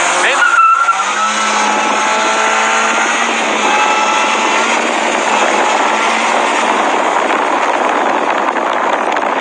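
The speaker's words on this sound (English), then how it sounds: "we're street racing out here" Loud, sustained engine roar from a supercharged Mini accelerating hard while street racing, with steady whine and road noise throughout and people talking in the car.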